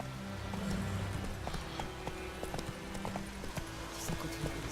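Horse galloping in The Witcher 3, a quick continuous run of hoof clip-clops at steady rhythm, moderately loud with no talk.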